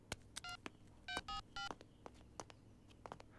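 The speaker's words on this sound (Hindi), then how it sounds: "सर रिंग हो रही है।" Telephone keypad dialing: a quick run of separate tone beeps in uneven rhythm, some longer held tones mixed with short clicks, fairly faint with no ringing tone evident.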